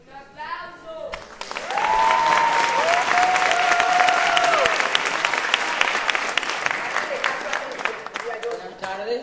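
A large audience bursts into loud, sustained applause at a public event on policy for children and adolescents in Colombia, the clapping swelling after a brief pause and holding steady for several seconds before easing slightly.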